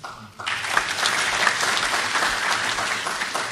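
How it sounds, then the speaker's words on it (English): Loud audience applause at an international conference in Kigali, Rwanda, swelling in after a brief quiet start and then continuing as a full, even roar of many hands clapping. "All we can do is just give a very loud clap."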